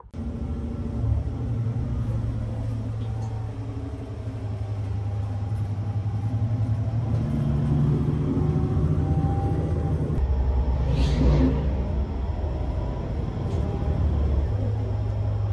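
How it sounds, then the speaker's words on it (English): A city bus in Calgary pulls in and idles nearby, a steady low engine rumble with road and traffic noise around it, growing slightly louder toward the end. "Okay, my bus is in."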